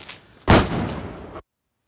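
A single sharp, loud Diwali firecracker bang at night in a residential colony, ringing out briefly before cutting off, preceded by faint background noise.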